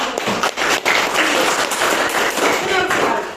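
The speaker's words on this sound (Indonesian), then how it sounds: "Berikan tepuk tangan." A classroom full of students claps hands, a steady dense burst of applause lasting a few seconds at close range.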